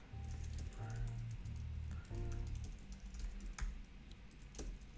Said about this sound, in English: not a fan of the Apple keyboard, but I got used to typing on it